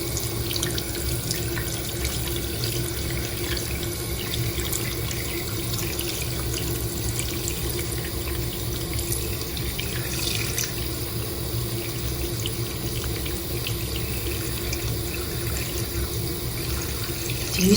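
Water runs continuously from a tap over a crystal, a loud, steady splashing and trickling rush that persists unbroken for the whole stretch, with no talking.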